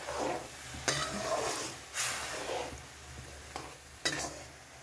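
Jaggery syrup bubbling as it boils in a kadhai for til laddu, a continuous soft bubbling hiss punctuated by a few sharp scraping stirs of a spoon against the pan, with no talk.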